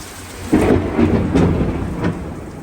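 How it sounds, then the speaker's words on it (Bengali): A thunderstorm over London at night, with loud, close thunder cracks and rumbles rolling over steady heavy rain on surfaces. "এখন প্রচুর বৃষ্টি হচ্ছে,"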